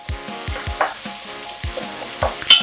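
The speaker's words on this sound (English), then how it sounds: "It should be just enough to make the onion start browning" Onion frying and starting to brown in oil for a coconut black bean stew, a steady sizzle with a few sharp clicks and stirring knocks, close and fairly loud, no voices.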